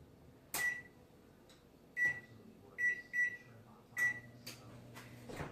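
A kitchen oven being switched on, its control panel giving a series of short electronic beeps, single and paired, spaced out over a few seconds against a quiet background.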